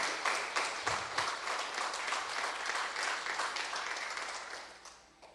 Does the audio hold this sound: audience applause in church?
yes